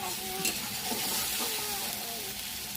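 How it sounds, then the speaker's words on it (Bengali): Spice paste sizzles steadily as it fries in oil in a pan, with a continuous crackle and occasional stirring scrapes, loud and close throughout. "এই তেলেতে আমি পেস্টটা বানিয়েছিলাম, সেই পেস্টটা এবার দিয়ে দেবো।"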